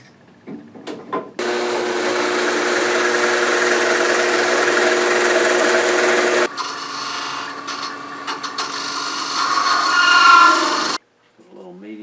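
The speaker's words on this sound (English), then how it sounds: "Now I'm going to drill a 5/8 hole in just inside the cavity, about 1 inch" A power drill bores a 5/8 inch hole into a turned wooden flask, whining steadily for about ten seconds with a shift in pitch midway as the bit cuts, starting and stopping abruptly.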